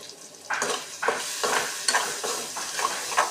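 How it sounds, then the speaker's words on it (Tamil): Spices temper in hot oil for mint chutney, a close sizzle rising in repeated bursts roughly every half second as the pan is stirred, with no speech. "இதை நல்லா தாளித்து விட்டுக்கோங்க."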